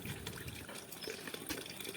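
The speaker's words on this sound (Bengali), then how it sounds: "তো এই যে মাছটাকে ভালো করে এবারে আমি ধুয়ে নেব।" A fish is rinsed clean under running tap water after scaling, with a steady, close splashing gush that continues throughout with no talk.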